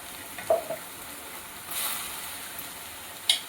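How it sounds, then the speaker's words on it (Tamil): Onions sauté in a pan with ginger garlic paste added, giving a soft, steady frying hiss with a few brief crackles and one small surge of sizzle, close and fairly quiet, with no voices. "வெங்காயம் வதங்கிட்டு இருக்கும்போதே இஞ்சி பூண்டு பேஸ்டையும் போட்டு அதையும் பச்சை வாசனை போக வணக்கிக்கலாம்."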